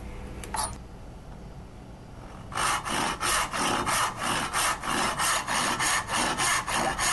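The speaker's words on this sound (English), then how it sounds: "I can start sawing them out." After a brief quiet knock, a hand saw cuts through walnut in a steady back-and-forth rhythm, about a dozen rasping strokes sawing out drawer-back dovetail pins, close and clear.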